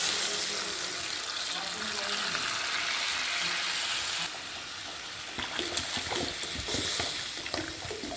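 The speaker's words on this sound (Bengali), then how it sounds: "এর মধ্যে আমি জল দিয়ে দেবো।" Water is poured into a cooking pan of frying ingredients, a steady splashing pour followed by sharper sizzling and spitting bursts as the liquid hits the hot oil.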